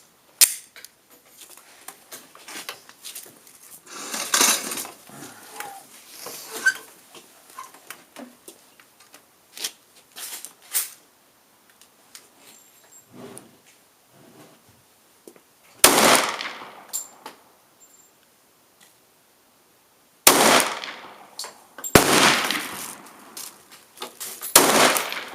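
A Glock pistol fires 10mm and .40 S&W rounds in a few sharp, loud, isolated shots spaced seconds apart, each with a brief ringing tail, between quieter stretches of handling clicks and rustles.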